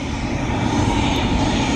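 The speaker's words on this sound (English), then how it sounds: "That's the helicopter." A city tour helicopter over New York makes a loud, steady, close engine and rotor drone that holds continuously without any talk.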